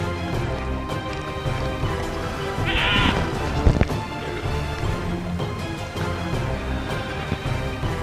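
A goat gives one short bleat partway through, heard faintly over a steady outdoor background with no voices.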